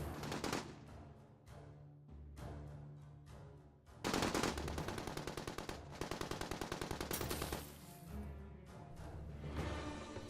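Heavy gunfire from an armed bank robbery shootout with modified rifles including an HK-91 and AR-15: sustained rapid automatic bursts and overlapping shots, dense and continuous throughout, with brief lulls between volleys.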